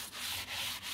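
Wood floor being sanded in short rubbing strokes, a close, steady abrasive hiss with brief dips between passes.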